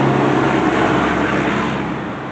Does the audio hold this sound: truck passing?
yes